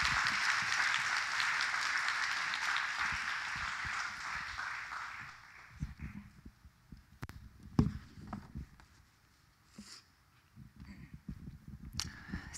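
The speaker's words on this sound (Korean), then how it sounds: "이 시간 격려와 응원의 박수로 무대로 모시도록 하겠습니다" Church congregation applauding at a Thanksgiving Sunday worship service as a deaconess is welcomed to the stage to give her testimony. A dense, steady burst of clapping fills the first five seconds, then fades into scattered footsteps and small shuffling noises.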